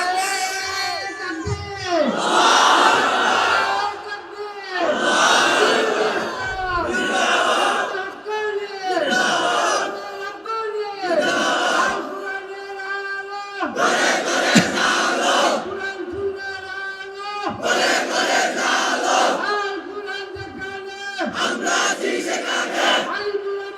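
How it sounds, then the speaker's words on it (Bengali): A large crowd at a religious gathering shouts takbir slogans in unison, loud repeated chanted calls in rhythmic waves with short pauses between each roar. "তোমরাই স্লোগান দাও, তোমরাই তাকবীর বলো"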